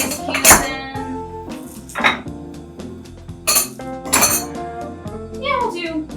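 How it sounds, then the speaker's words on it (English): Ice cubes drop into glasses while a boozy summer drink is mixed, several sharp clinks and rattles close by, with people talking over them, a voice among them. "We're going to put some ice cubes in."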